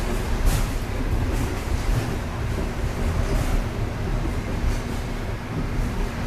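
A Tide light rail train in downtown Norfolk, Virginia, gives a steady, loud, low rumble with a faint constant hum and no voices.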